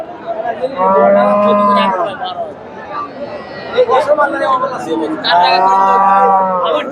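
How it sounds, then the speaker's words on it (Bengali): A Friesian dairy cow at a busy cattle market gives two long, loud, droning moos close by, with crowd chatter and voices running underneath throughout. "এই গাভীটা একটু তথ্য নেই ফ্রিজিয়ান গাভী"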